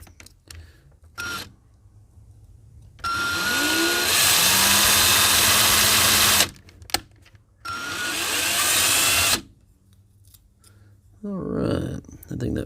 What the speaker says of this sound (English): You can kind of see the drill bit going down the post and clearing away the material.